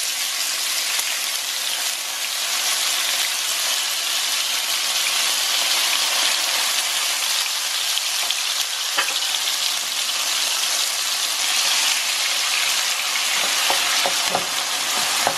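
Onion and tomato fry in olive oil in a pan, a loud, dense, continuous sizzle with a few light utensil taps near the end and no talking.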